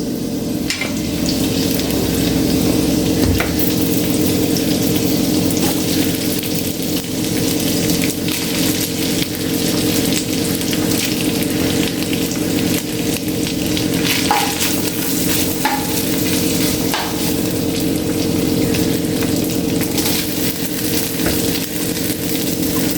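Cooked, drained rice boiled with ghee and salt tipped into a pan for green peas rice and stirred, giving a steady close sizzle and scraping hiss that carries on throughout with no talk.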